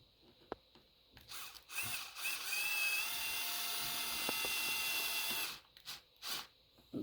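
A power driver whirs in a sustained burst of a few seconds, tightening screws into a plastic part of an Arrma Big Rock 3S RC car, with short clicks and handling noises before and after.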